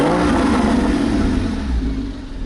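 A Porsche GT4 engine revs hard and holds a throaty, rumbling exhaust note, then eases off slightly toward the end.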